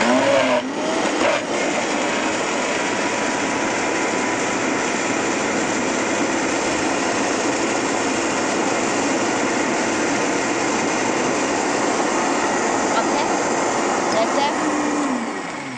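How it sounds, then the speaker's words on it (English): A blender whirs steadily at high speed for a long stretch while making vegan sour cream, a loud constant motor roar with a brief voice near the start. "All you need to do, dump it in the blender. Just blend it"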